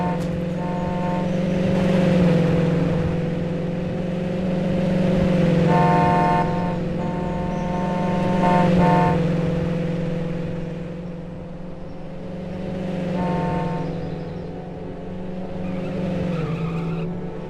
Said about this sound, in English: You get your own vehicle in the game that you can drive around.